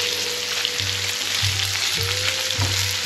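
Sausage sizzling steadily on a hot flattop griddle, a close, continuous frying hiss with a low background hum, uninterrupted and free of voices.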